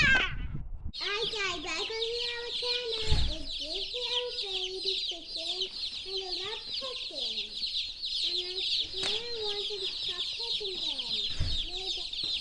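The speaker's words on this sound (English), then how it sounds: "The chicken are talking about you." Young Cornish cross broiler chickens keep up a dense, close chorus of high peeping and clucking that runs without a break, with a few louder squawks rising through it.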